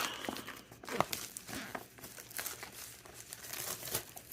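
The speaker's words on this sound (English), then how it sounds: "Get the plastic off there." Plastic wrapping is pulled off a newly unboxed outdoor security camera, making soft, close crinkling and rustling crunches in uneven bursts.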